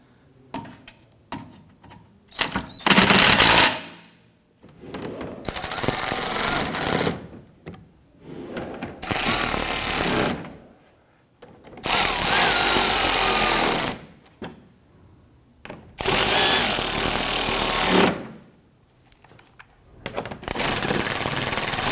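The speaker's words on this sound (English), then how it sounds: "Snug down the bigger bolts first." Power tool tightening bolts on the bumper cover of a 2012-2017 Toyota Camry, in repeated loud whirring bursts of a couple of seconds each with short pauses between, close by and without talk.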